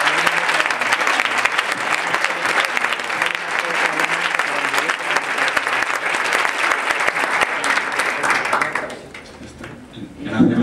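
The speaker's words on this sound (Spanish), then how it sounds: "Yo creo que se merece un aplauso." Audience applause at a talk with questions, steady dense clapping from a crowd that carries on for about nine seconds before thinning out and dying away near the end.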